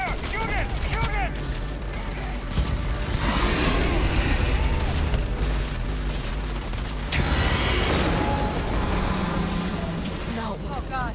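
Starfield gunfire in dense, sustained bursts across a loud combat scene, with booming impacts and voices talking over the shooting throughout.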